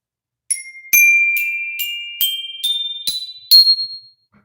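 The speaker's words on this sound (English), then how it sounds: "It's a little mini glockenspiel." A little mini glockenspiel rings out with eight bright, clean struck notes, stepping upward in pitch in an even rhythm, each tone chiming close and clear before decaying into silence.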